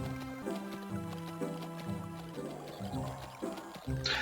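Game horse from The Settlers (1993) on the Amiga, rhythmic hoof clip-clop over looping music, steady and fairly close, with no talking.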